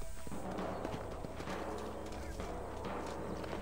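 A horse in the Red Dead Redemption video game trots with rhythmic clip-clop hoofbeats over a steady game soundscape, while a voice talks over the top.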